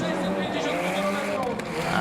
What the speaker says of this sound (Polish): O, i teraz startuje Paweł. Paweł Dytko w prototypowym Mitsubishi.